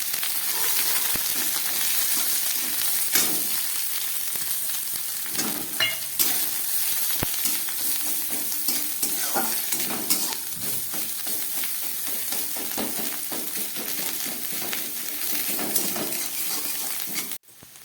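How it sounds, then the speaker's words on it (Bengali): Carrots with grated ginger and five-spice tempering fry in a pan, a continuous close sizzle broken by repeated scraping stirs and light clinks for the whole stretch. "গাজরটা ভাজা হয়ে গেছে।"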